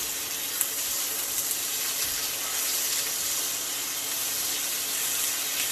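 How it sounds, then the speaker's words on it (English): Food frying in a pan at home, a steady broadband sizzle with fine crackle held at an even level throughout, close by and alone with no talking. "Okay, so we're just going to fry these up."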